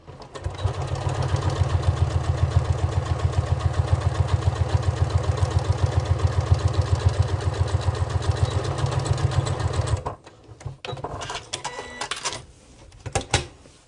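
A sewing machine stitches binding onto a padded crossbody bag strap, running loud and steady with a fast, even mechanical rhythm for about ten seconds, then stopping, followed by a few brief handling clicks.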